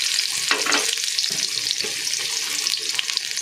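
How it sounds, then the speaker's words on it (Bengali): Onions dropped into hot oil in a pot for beef biryani, a loud close sizzle and crackle with stirring noises, steady throughout with no talking. "পেঁয়াজগুলো আমি এখন দিয়ে দেবো"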